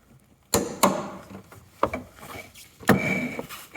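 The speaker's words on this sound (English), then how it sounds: "So we got the torque wrench set to that amount, and I'm gonna tighten it." A torque wrench tightens a suspension bolt on an E30 Touring's front suspension, giving several sharp ratcheting clicks and scraping creaks spread unevenly across a few seconds, close and moderately loud.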